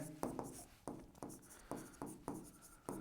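A pen writes on paper during a Class 10 maths lesson, giving close, quiet scratchy strokes in short bursts with brief pauses between them, heard alone.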